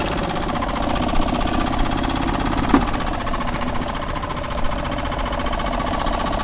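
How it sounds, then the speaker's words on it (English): A rebuilt Suzuki 2.5 outboard motor idles steadily with a fast, even chugging pulse, close and continuous with no voices. "Idling is good."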